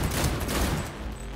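Gunfire in the video game Cyberpunk 2077, a quick loud burst of several rapid shots rolling together over little more than a second, with no talk.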